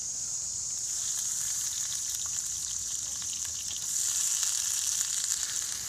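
Four catfish fillets fry in hot oil in a pan at an outdoor catch-and-cook, giving a steady, close, even sizzle that swells slightly louder toward the end, with no talking.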